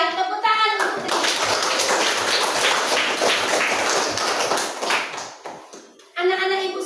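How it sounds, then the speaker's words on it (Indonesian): A group of children claps for Risa in a church lesson, a dense burst of hand claps lasting several seconds, framed by a voice speaking before and after. "tepuk tangan untuk Risa"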